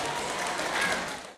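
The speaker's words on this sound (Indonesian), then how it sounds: "Mohon tepuk tangan yang paling meriah buat beliau." An audience at a community gathering on child stunting gives brief lively applause, a dense wash of clapping that cuts off abruptly near the end.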